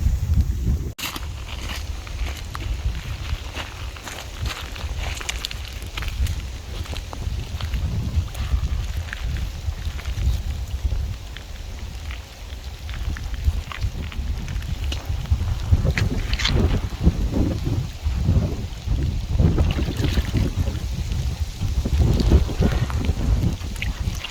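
Heavy rain and a strong gusting wind batter an outdoor carp fishing spot, a constant dense rush with low buffeting rumble against the microphone and a few sharp knocks, no talking.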